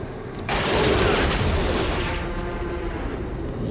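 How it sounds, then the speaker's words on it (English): A shadow barrage attack in the tactical game Hard West 2 erupts suddenly into a sustained, dense roar of rapid gunfire and booming impacts that holds loud for several seconds before easing slightly. "Use the old shadow barrage."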